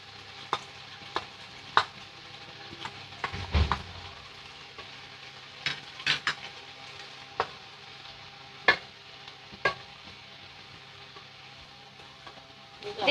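Sour yogurt going into a sizzling potato curry (aloo dum), a low steady sizzle broken by sharp spoon clicks and scrapes against the pan at irregular intervals, close and fairly quiet.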